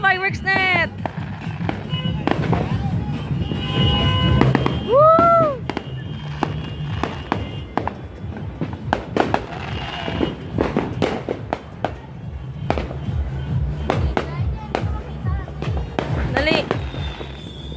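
New Year's Eve fireworks crackle and pop continuously, with dense bursts of firecracker bangs and a couple of whistling rockets, loud and nearby while people cheer and talk.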